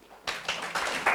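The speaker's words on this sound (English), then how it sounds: "Please give him a round of applause" Applause breaks out at an East Africa clinical officer workshop, a short burst of clapping from the audience that starts abruptly after a quiet moment and stays fairly even.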